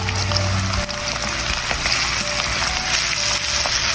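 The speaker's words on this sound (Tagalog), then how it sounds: "Umpisahin na natin magprito mainit ng ating mantika." Chicken feet frying in hot oil: a loud, dense, steady crackling sizzle close by, with no voices.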